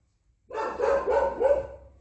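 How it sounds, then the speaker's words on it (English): A single dog barks three or four times in quick succession, fairly close and clear indoors, with no speech over it. "I wonder why my dog was barking."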